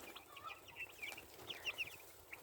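Meat chicks cheep and cluck in quick, high, scattered bursts as they crowd around a water dish, the calls close and fairly soft with no talking.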